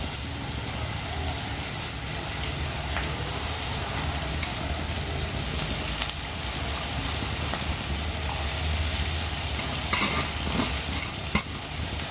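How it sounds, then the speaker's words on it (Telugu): Amaranth leaves (thotakura) frying and being stirred in a pan, a steady, close sizzle with scraping stir sounds running throughout without pause. "ఆకుకూర వేసి మనం ఫ్రై చేసుకోవాలి."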